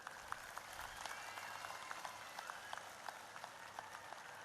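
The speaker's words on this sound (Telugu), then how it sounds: "ఒక్కసారి చెవులు పగేటట్టు చప్పట్లు కొట్టండి మరి." Audience at a public event applauding, a faint, distant, steady patter of many hands clapping that keeps going throughout.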